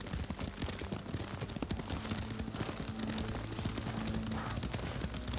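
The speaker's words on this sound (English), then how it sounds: "Lord Sakai taught me to ride a horse" Horse hooves clip-clop in a steady rhythm while riding in the video game Ghost of Tsushima, loud and continuous alongside low game music, with no talking.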